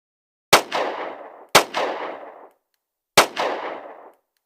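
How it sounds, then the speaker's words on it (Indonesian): Three loud gunshots from the 2013 Korean film Commitment, each a sharp crack followed by a booming, reverberant tail, the first two close together and the third after a longer pause. "Akhirnya, ia memilih menembak Kolonel Moon."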